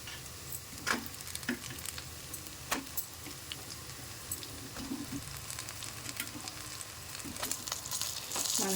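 Tomatoes and dried red chilies fry in oil for a tomato pickle, giving a continuous crackling sizzle broken by sharp clicks from stirring.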